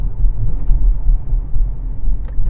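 Engine of a 2023 Nissan Z with a manual gearbox, downshifting with automatic rev matching on a drive; a loud, steady low rumble from inside the car with no talking.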